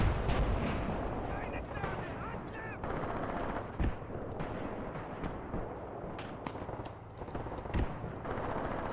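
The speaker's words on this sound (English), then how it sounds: "artillery has started to shoot flares. They are arriving right now." Artillery firing flares in the video game Graviteam Tactics at night, heard as a continuous rumbling battle with scattered distant booms and sharp reports, under some talking.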